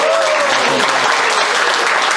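An audience at a gallery art talk applauds loudly and steadily for a photographer being introduced, a dense, sustained clapping from a roomful of people with a brief voice near the start.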